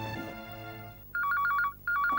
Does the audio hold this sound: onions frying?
no